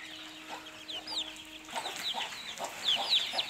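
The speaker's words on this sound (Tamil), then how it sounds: "இது வந்து ஒரு 1 மாதத்து குஞ்சுங்க." One-month-old country chicks on a farm raising kattu seval fighting roosters give repeated high cheeps and soft clucks, close and fairly faint, with a steady low hum in the first half.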